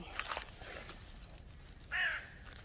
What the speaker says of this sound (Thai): เสียงการ้อง